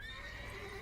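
A horse in The Witcher 3: Wild Hunt gives a brief, faint whinny with soft hoof clip-clops, heard alone and very short.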